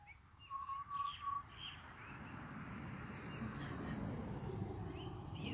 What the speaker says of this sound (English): Beautiful butcher birds.